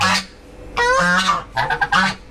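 Loud, close goose-like honking, several harsh calls in quick bursts with short pauses between them.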